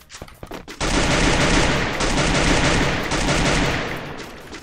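Sustained automatic gunfire in a video game, loud and continuous rattling bursts after a few scattered single shots, with no break for several seconds.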